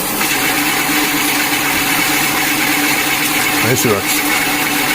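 Electric bike motor spinning at no-load top speed, a steady close whine with a hum underneath, while someone speaks briefly over it.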